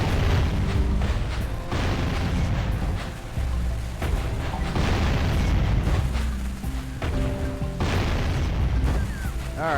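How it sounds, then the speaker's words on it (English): In the Jak and Daxter video game, cannon-thrown explosives burst near metal boxes, a steady run of loud booms and blasts layered over game music and effects. "You wanna stay by these boxes so the cannon will throw an explosive to you."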